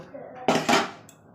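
A pot of cooked rice is lifted off a stove: two sharp metallic clanks of the pot against the burner and lid, close and clear, followed by a lighter clink.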